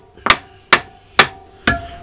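A hammer strikes a homemade wooden spanner four times at a steady, even pace, each blow a sharp, loud knock with a short ring, heard close up and alone, nothing else sounding.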